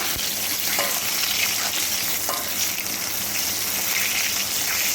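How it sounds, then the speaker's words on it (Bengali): KFC-style chicken pakora deep fries in hot oil, a loud continuous bubbling sizzle, close up, with faint stirring clinks now and then as the pieces are turned. "উল্টে পাল্টে এইভাবে ডিপ ফ্রাই করে নিচ্ছি"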